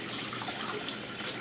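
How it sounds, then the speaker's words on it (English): Water runs steadily through a small tabletop watershed model, a continuous soft splashing trickle like a tap filling a container, with no voices. "we're going to let our water continue through for a minute"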